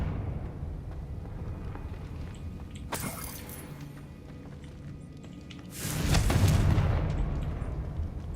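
Two Confringo fire-spell explosions go off in Hogwarts Legacy, the first a short sharp blast and the second a longer rumbling burst, both over a low steady game ambience.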